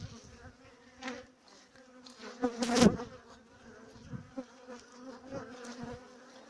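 Honey bees buzz at an apiary on a dull, overcast day, a steady close drone with individual bees passing near, one swelling loud briefly mid-way, no voices.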